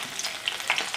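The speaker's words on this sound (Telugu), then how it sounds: "ఆయిల్ బాగా హీట్ అయ్యిందండి పప్పు దినుసులు వేసాలి ఎండుమిర్చి కరివేపాకు" Lentils, dried red chillies and curry leaves crackle and sizzle steadily in hot oil, a close, continuous frying hiss with small pops throughout.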